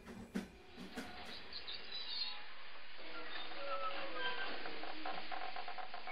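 A train pulls into a station as a sound effect in a horror audio story, a low rolling rumble building and holding steady after a few soft knocks, fairly quiet overall.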